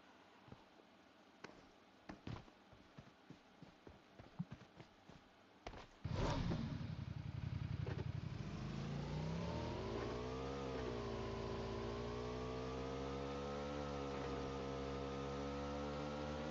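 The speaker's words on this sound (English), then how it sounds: "let me go get that motorcycle" Motorcycle engine in PUBG gameplay: a few sharp clicks and knocks, then a loud, steady engine note kicks in, its pitch rising and dipping slightly as it revs and holds, with no talking.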